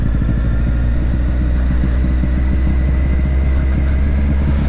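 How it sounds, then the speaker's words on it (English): A Triumph Street Triple 765 motorcycle engine braking down a steep, wet, slippery descent, a loud steady low engine drone that holds throughout without changing pitch, heard close with wind rush. "even the engine braking on this isn't enough to slow me down"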